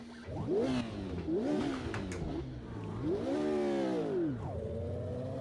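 A 1968 Lotus race car engine in a VR racing sim revs up and down repeatedly, with rising and falling pitch sweeps as gears change, steady and fairly close throughout.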